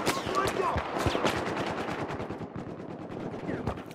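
Rapid automatic gunfire in the Battlefield 4 video game empties a whole magazine in a dense, continuous burst of close shots, with scattered battle noise around it.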